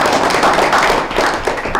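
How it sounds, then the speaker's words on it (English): An audience at a county school board meeting breaks into a dense, loud round of applause for the school system leader, continuous clapping filling the room. "we need to give you a big round of applause"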